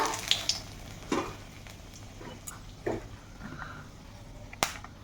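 Two dried chillies and a bay leaf dropped into hot mustard oil: a faint, steady sizzle with a few sharp crackles and spits, close by and without speech.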